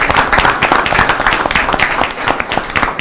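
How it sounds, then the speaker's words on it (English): Applause fills a city council meeting in DeKalb, a steady, dense clapping from a crowd that holds at an even level throughout without any talk over it. "Let's give our telecommunicators a round of applause."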